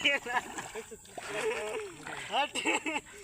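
Water splashes and splatters during an outdoor song shoot, with lead actors sitting and throwing water; steady sloshing runs under lively talking voices throughout.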